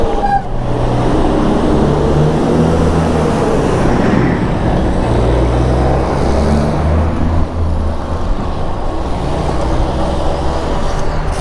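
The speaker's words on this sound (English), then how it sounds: "a big truck going in front of me" A big truck rumbling past at close range on a town road, heard from an e-bike riding at about 24 mph, a loud steady low roar with wind and traffic noise throughout.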